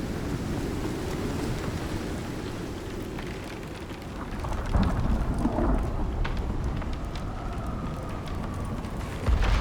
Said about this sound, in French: On va attendre que la tempête passe